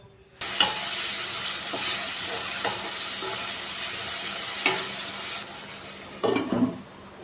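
Onion and tomato frying in oil in a pan, a steady sizzle with occasional scraping stirs and clinks, close and continuous.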